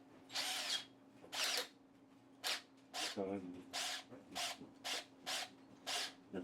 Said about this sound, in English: I think that's the drill.